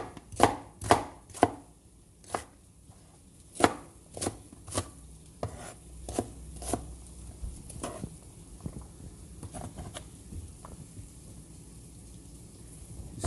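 A knife chops vegetables, onion and turnip, on a cutting board for a shrimp broth, with a run of crisp, close, evenly spaced thuds that come in quick bursts and then slow, irregular strokes.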